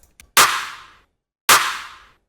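Two clap samples for an electronic drum beat, each a bright snappy crack with a short noisy tail, spaced apart and heard alone.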